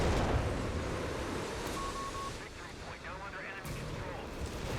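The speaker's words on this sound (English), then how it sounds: "the Black Dragon artillery comes in" An artillery barrage lands in Company of Heroes 3 during a tournament match, with dense rumbling booms and blasts under excited commentary.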